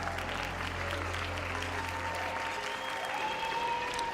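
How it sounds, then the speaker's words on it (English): Steady, dense applause from a crowd fills the whole stretch, loud and continuous without breaks, heard during a live game stream, with faint voices blended underneath. "Somebody cheering for our successes."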